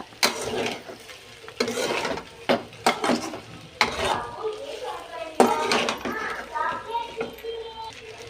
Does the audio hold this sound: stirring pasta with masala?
yes